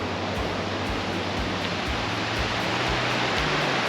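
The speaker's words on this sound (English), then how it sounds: "Oh, the creek's got some pretty good flow." A creek in Angels Camp, California, running right beside a cabin, a dense, steady rush of flowing water heard close by, with faint low rhythmic knocking underneath and no voices.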